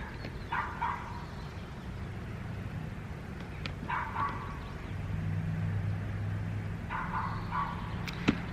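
A small dog barks in three short bursts spaced a few seconds apart, heard at a moderate distance over a steady low background hum.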